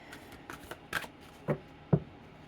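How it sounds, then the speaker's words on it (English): A few quick riffling bursts of playing cards being shuffled, close by, short and separated by brief pauses. "Just gonna shuffle them and then"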